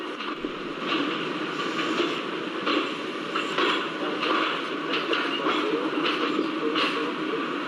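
Shivamogga-Bengaluru passenger train hauled by a WDM3A diesel locomotive rolls slowly through Shimoga town, a steady rumble with rhythmic wheel clatter heard from on board.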